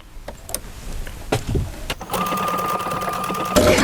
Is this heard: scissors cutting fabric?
no